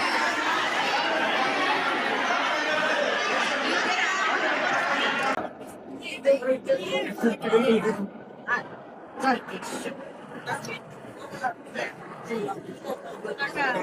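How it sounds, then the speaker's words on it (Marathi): A dense crowd chatters loudly at a Bhairavnath temple festival, a continuous wall of voices that suddenly thins into scattered nearby talk and bursts of laughter. "बघू शकता तुम्ही गर्दी किती."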